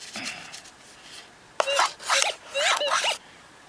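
A Gold Monster 1000 metal detector gives a few warbling electronic tones in quick succession, rising and falling in pitch, close and fairly loud against a faint background hiss.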